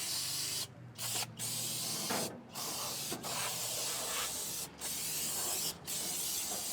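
Steady loud broadband hiss of a spray nozzle washing residue off the old paint of a 1967 Ford truck, running nearly continuously with several short pauses where the spray cuts off.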